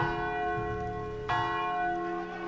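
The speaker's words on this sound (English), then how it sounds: "over the sounding of the mine bell tower" A mine's tower bell rings with rich sustained tones, one strike decaying then a second clear strike midway, resonant and fairly loud, with no voices.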